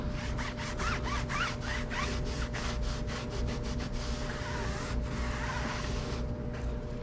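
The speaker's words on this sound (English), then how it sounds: "I'm like pushing down so I can push this coating into the tire, or this tire dressing." Silica-based tire dressing is pressed and rubbed into a car tire by hand, giving a rhythmic series of close scrubbing strokes that run into a steadier rubbing, with a low background hum.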